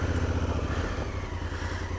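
A 2016 Honda Africa Twin CRF1000L adventure motorcycle spins its back end around on mossy off-road ground, its engine droning steadily and loudly throughout.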